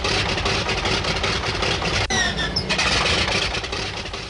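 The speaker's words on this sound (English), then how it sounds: "Start engine." Wartime aircraft engine on an aircraft carrier flight deck, a loud continuous mechanical roar with a sharp transient partway through as it starts up, dense and close with no voices.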